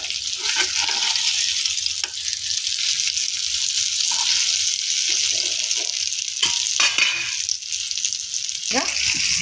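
Pomfret fish frying in a pan on the stove, a steady close hiss of sizzling oil throughout with a few brief clinks and scrapes.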